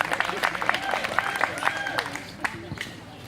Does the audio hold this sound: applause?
yes